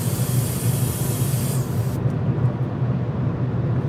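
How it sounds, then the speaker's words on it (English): An airbrush sprays paint onto a plastic model ship part, giving a steady, close hiss of air and paint. A thin high tone drops out partway through while the spray continues. "I am so pleased with my airbrush,"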